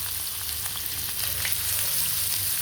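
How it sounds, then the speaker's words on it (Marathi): Onions with a pinch of asafoetida fry in hot oil, producing a continuous close crackling sizzle with light stirring scrapes, steady and unbroken. "कांदा याच्यात घालू आपण आणि मस्त लालसर होईपर्यंत त्या कांद्याला आपण परतून घ्यायचं."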